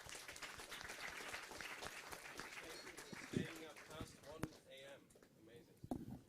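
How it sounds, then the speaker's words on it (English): Applause for presenters at a live startup hackathon, brisk clapping mixed with cheering voices and crowd chatter, fading toward the end. "Let's give them a round of applause."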